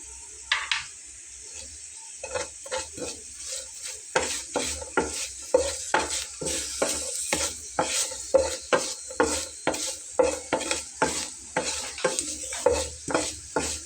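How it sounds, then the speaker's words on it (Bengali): Nigella seeds, chillies and garlic fry in a pan while a spatula stirs them, giving rhythmic scraping strokes over a soft sizzle. The sound is close and clear, with no talking. "কালো জিরাটা ভাজতে বেশি সময় লাগে না।"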